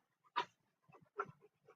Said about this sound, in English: he's excited and doesn't want to bark, so he pants out loud